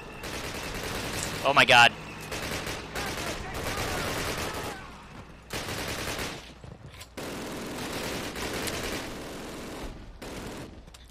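A tank's MG42 machine gun rattles in long rolling bursts during a Call of Duty battle, loud and continuous, with someone talking and exclaiming over it.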